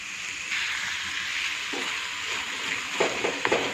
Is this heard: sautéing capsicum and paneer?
yes